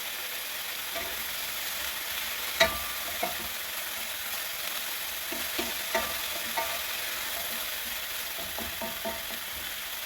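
Beef and broccoli sizzle steadily in a hot pan while a utensil scrapes and knocks against the metal in scattered clicks, close and even, with no voices.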